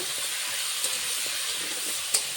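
Potato, eggplant and radish pieces seasoned with salt and turmeric fry in an uncovered pan, giving an even, bright sizzling hiss throughout with a couple of small ticks.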